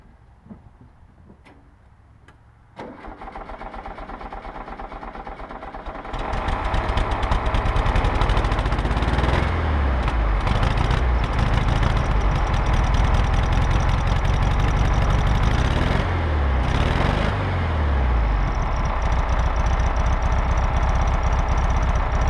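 A 1958 VW Bug cranks and fires on a cold start after sitting two years, then settles into a loud, rough, ticking idle that runs on close by with uneven surges.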